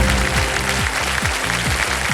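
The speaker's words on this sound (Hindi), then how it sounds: "ताली पहले ही पड़ गई थी।" A studio audience on a quiz show applauds loudly and continuously, a dense wash of clapping with no break.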